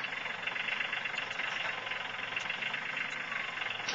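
A tractor engine runs steadily on a ranch, a close, even mechanical drone with a faint rhythmic knock throughout, alone with no talking.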